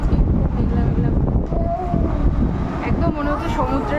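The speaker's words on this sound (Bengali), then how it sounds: "প্রচণ্ড হাওয়া দিচ্ছে আজকে ওয়েদারটাও" Strong wind blows in a continuous, rough roar across an outdoor microphone on a waterside bank, steady for the whole stretch, with faint background voices.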